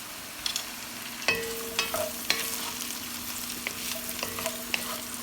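Garlic sautéing in a pan for minestrone, with soft sizzling under a spoon stirring and scraping in several sharp, close clicks and taps against the pan.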